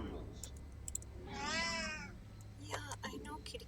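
A single drawn-out cat meow, fairly close and clear, with faint clicking and a brief murmur of voice around it.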